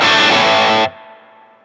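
Electric guitar played through a Mad Driver budget overdrive pedal with the gain knob at noon, a loud, dense chord ringing for under a second, then cut off abruptly, leaving a faint decaying tail.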